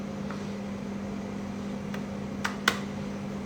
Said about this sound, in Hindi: अब एक बीटर की हेल्प से, या अगर आपको हैंड विस्क यूज़ करना है तो आप हैंड विस्क भी यूज़ कर सकते हो। अपन बीटर से मिक्स